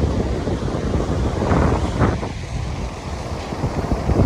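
Ocean waves wash at the beach in a steady, broadband roar, mixed with gusty wind buffeting the microphone, continuous and fairly loud with no clear separate breakers.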